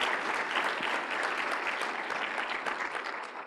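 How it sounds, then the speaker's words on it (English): Audience at a graduation ceremony giving a round of applause, dense steady clapping from many hands throughout, fading a little toward the end, with no voices over it. "Please, a round of applause for her as well."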